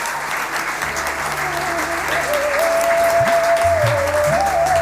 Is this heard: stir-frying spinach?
no